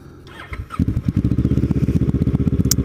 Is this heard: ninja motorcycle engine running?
yes